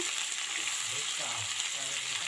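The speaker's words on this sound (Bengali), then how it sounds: "রসুনের টুকরো, তো এটাকে সুন্দর করে ভেজে নেব।" Sea fish pieces frying in hot oil with garlic, alongside potatoes, tomato, onion and green chilli, give a steady, dense sizzle that stays constant and close throughout.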